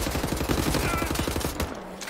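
Rapid automatic gunfire from the video game Wolfenstein: The New Order rattles in a loud, fast, even burst for about a second and a half, then cuts off, leaving a brief tonal sound and a faint voice.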